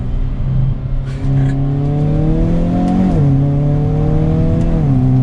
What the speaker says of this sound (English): So pedal to the floor there.